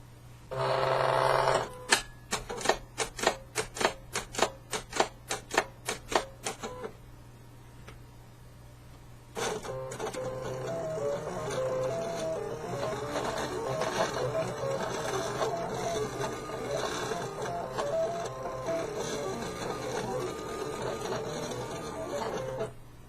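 An electronic cutting machine slices appliqué fabric, opening with a rapid series of mechanical ticks and clicks, then settling into a steady motorised whir with faint rhythmic chatter that runs on throughout.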